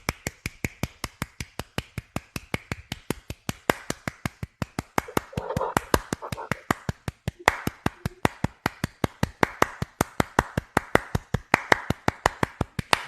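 One person claps slowly and steadily during a debate, sharp evenly spaced claps close by for the whole stretch, with faint voices talking underneath.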